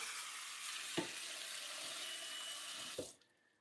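Water runs steadily from a kitchen tap into a pot being filled for boiling, a continuous broad hiss with two brief clunks at about one and three seconds before the flow cuts off near the end.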